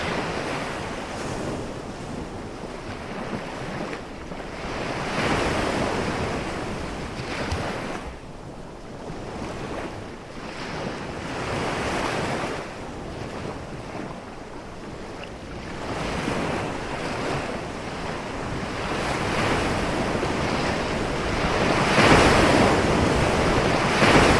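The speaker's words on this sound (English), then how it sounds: "you get very, very high waves, which is very typical of North Cornwall" High ocean waves on the North Cornwall coast roar in broad, rising and falling surges, close and loud, with wind buffeting the microphone throughout.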